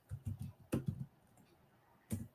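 Close-up computer keyboard typing in a few short bursts of rapid clicking keystrokes, separated by brief pauses.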